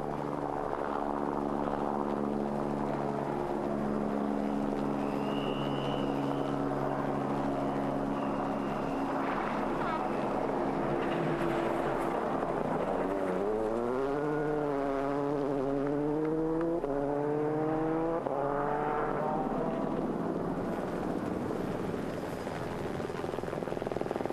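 Onboard rally car engine at WRC Rally GB 2003 on the Margam Park stage, a loud continuous roar with rising and falling revs through gear changes, close and steady throughout with no talk.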